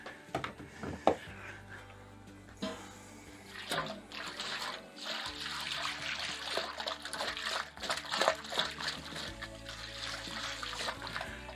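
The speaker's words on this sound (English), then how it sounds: "So I'll put another litre of water in there. And shake it all about." A litre of water sloshes and splashes as a home-brewing container from a Mangrove Jack's Irish Stout kit is shaken to rinse it out, with trickling in between and no talking.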